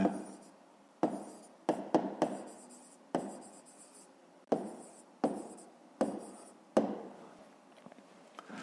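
A pen writes a maths answer by hand on paper, a series of about a dozen short, close scratchy strokes in irregular bursts, with quiet pauses between.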